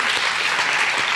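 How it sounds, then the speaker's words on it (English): Students clapping for their parents at a fifth-grade moving-on ceremony, a short burst of many hands applauding together, close and steady. "Students, could you give your parents a round of applause?"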